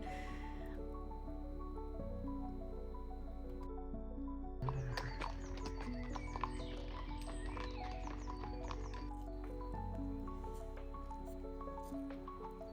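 Horses on a lakeside countryside hike between Coppet and Nyon sound faint and distant, with soft hoof clops, shuffling and what may be a low whinny, all under quiet outdoor ambience.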